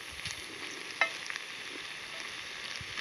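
Vegetables roasting in a pan over an outdoor fire at a forest bivouac, a faint, steady hiss and light sizzle with one sharp clink of a utensil partway through, no voices.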